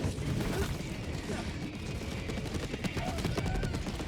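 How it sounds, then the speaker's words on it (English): A Gatling barrage in the shooter game Helldivers 2, a continuous rapid rattle of automatic fire with mechanical clanking, steady and fairly loud throughout, with speech faintly underneath. "it's a Gatling barrage."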